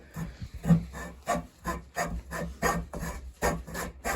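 A pinewood derby car block of wood is cut by hand, making a quiet, steady back-and-forth rasping stroke about twice per second.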